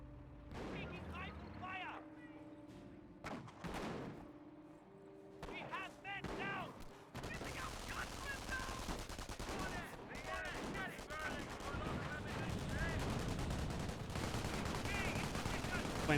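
Battlefield gunfire in Company of Heroes, a World War II strategy game with Wehrmacht against British forces, as bursts of rifle and machine-gun fire crackle and thud, thickening into a dense steady barrage under game voices and chatter.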